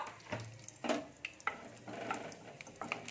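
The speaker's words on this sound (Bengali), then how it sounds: "আমি একটা শুকনো লঙ্কাকে ভেঙে দিয়েছি, আর তেজপাতা দিলাম, আর একটু জিরে দিলাম। এটা আমি একটু ভেজে নেব।" Dry chili, bay leaf and cumin fry in hot oil with faint, soft sizzling, while a spoon intermittently scrapes and stirs the pan, all fairly quiet and with no voices.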